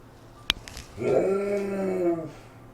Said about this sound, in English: Dogs are having a little fight.